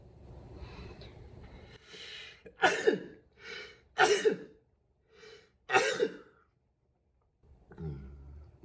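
A few sharp, explosive bursts of breath come in close succession up close, with softer sniffles and quiet pauses between them.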